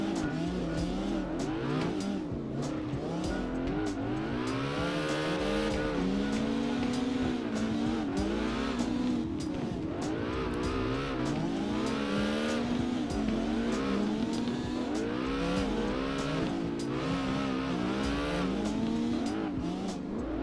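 A Cobra S650 slides through drifts in CarX Drift Racing Online, its engine rising and falling in a steady throttle rhythm with screeching tires. The loud, close sound runs without pause and no one speaks.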